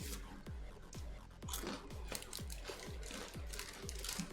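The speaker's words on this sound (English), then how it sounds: "They're just like rice crackers," Crunchy, slightly sweet Japanese rice crackers are chewed close to the mic, giving a steady run of about nine crisp crunches at an even pace, with no other sound.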